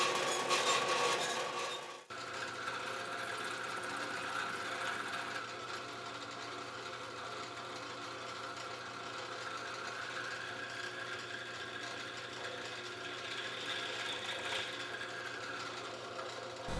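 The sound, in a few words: bandsaw cutting a slot in a pipe end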